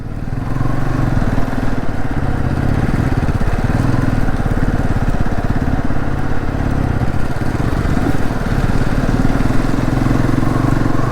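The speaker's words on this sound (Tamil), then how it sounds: "நாங்கள் பாருங்கள் டாப் பாக்ஸை மாட்டிட்டு எப்படி ஏறுது பாருங்கள் வண்டி" An NS motorcycle carrying a top box climbs an off-road track toward a hilltop fort, its engine loud and steady throughout with a close, rough mid-pitched drone and faint rattling.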